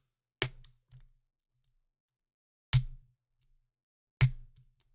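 Lock pins click while a Harbor Freight laminated padlock is single-pin picked, three crisp, close clicks spaced a second or two apart, each with a faint rattle after it, against near silence.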